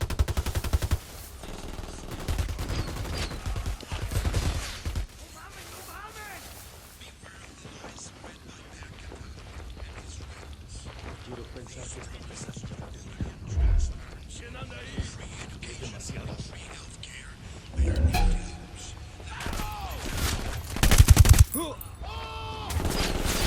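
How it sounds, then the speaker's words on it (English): Automatic gunfire in the Ghost Recon Wildlands video game, with bursts of shots and loud impacts scattered through a busy in-game firefight, mixed with music and voices. "I'm shooting these fuckers."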